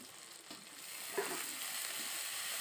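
Onion, chopped tomato and ginger-garlic paste fry in a pan, giving a soft, steady sizzle with a light stir or clink partway through, fairly quiet and without talk.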